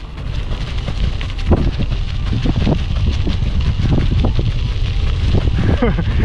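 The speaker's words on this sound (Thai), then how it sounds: "ลมเย็นชิวๆอากาศดีครับ" Cool morning wind at Nong Kang Pla reservoir in Phimai buffets the microphone during a run, a loud continuous rumble with soft rhythmic thumps underneath.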